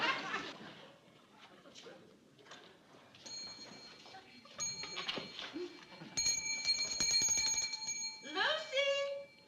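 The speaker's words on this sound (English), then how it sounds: "every time she rings that bell" A hand bell rings in a sitcom scene, bright repeated metallic jingles growing busier toward the end, heard after and partly over people talking.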